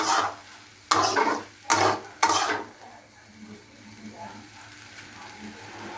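A frying winter vegetable and egg bhaji is stirred in a pan with coriander leaves, giving three sharp scraping strokes of the utensil and then a soft, steady sizzle.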